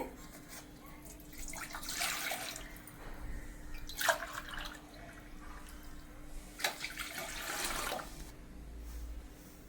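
Water pours into a vessel in short bursts for mixing semolina in a home kitchen, faint and splashy over a low steady hum, with no talking.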